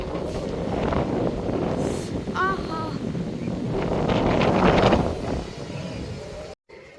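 Gusty wind buffets the microphone with a steady low rumble, swelling louder midway, while a voice briefly exclaims and faint chirps sound in the background.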